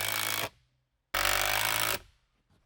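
A power driver sinks 2.5 inch screws into 2x6 lumber in two loud, close bursts of whirring motor, each about a second long, separated by a short silence, with a third starting at the end.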